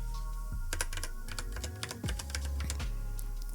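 A password being typed on a computer keyboard: a quick, irregular run of soft, close key clicks over a low steady hum.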